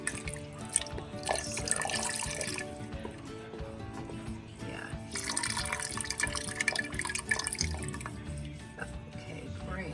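Water pours and trickles into a pot holding a gumbo roux for Louisiana-style gumbo, with splashing and dripping that swells and eases at close range, no voices.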